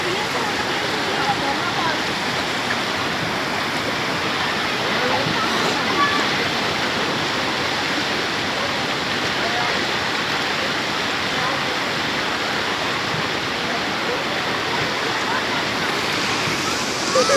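Fast-flowing river water rushes and roars in a loud, continuous, dense wash, close by and steady throughout, with voices faintly under the noise.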